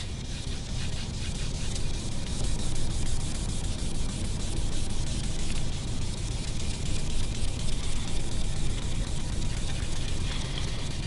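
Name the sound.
rubbing Angelus dye into a quilted guitar top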